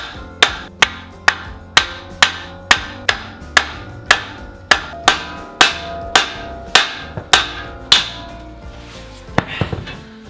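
A hammer striking a Ford Bronco axle assembly to separate the knuckle: about sixteen sharp metallic blows at an even, steady pace, close and loud, with a few lighter clinks at the end.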